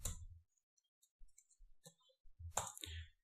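Keys clicking on a computer keyboard as a command is entered in a penetration-testing tool, a few sparse taps and a short burst of quick keystrokes near the end, close and quiet.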